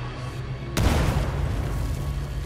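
In the video game Titanfall 2, a grenade explodes with a sudden loud boom over constant dense game noise, leaving a sustained rumbling roar afterward.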